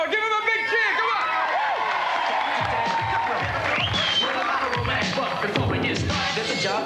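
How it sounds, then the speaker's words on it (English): Crowd cheering and shouting at a live BMX demo by a rider, with loud sustained whoops and voices throughout, rising into a busier burst of cheers midway. "Give him a big cheer, come on!"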